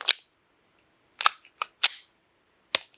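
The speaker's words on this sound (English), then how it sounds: "Let's go ahead and shoot 9 first, see where it shoots" A WatchTower Apache 9mm double-stack pistol fires five sharp, crisp shots at an uneven pace, each report short and isolated against near silence.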